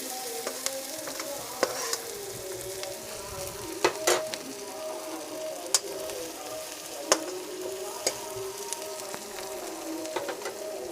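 Onions fry in a pan for a fish curry, hissing in a steady, close sizzle broken by scattered crackles and pops, while a dove coos faintly in the background.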